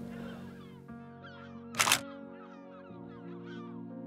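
A camera shutter fires once in a quick double-snap burst while puffins are photographed up close on Skomer, Wales, standing out sharply against a steady backdrop of seabird calls and hum.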